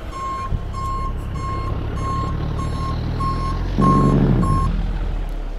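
A dump truck in Farming Simulator 22 sounds its reversing alarm, a run of evenly spaced high beeps over a low idling engine, with a brief air-brake hiss near the end.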